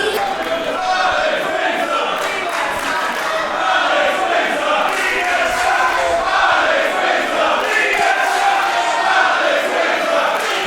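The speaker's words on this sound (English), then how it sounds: "It seems that Samuels has paid a couple of people to cheer for her here" Crowd cheering and shouting at a Riot Cabaret wrestling show for wrestler Nina Samuels, a continuous loud roar of voices with scattered yells and claps across the whole stretch.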